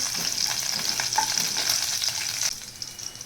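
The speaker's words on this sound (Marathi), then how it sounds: "हे इथे छान मस्त फ्राय करून घ्यायचं आहे." Slit green chili and garlic frying in hot tempering oil, a bright close sizzle that holds steady for about two and a half seconds and then eases off, with no voices.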